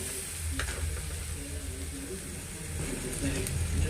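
Egg, garlic and chili mixture frying in a pan, a steady sizzle with soft stirring scrapes throughout, heard close and moderately loud with faint background voice.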